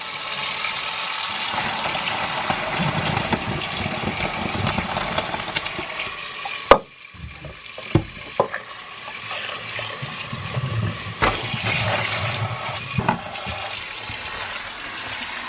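Tap water runs steadily while brain mushrooms are rinsed under it after boiling, a broad rushing splash that cuts off abruptly, followed by a few knocks and handling sounds before the flow resumes.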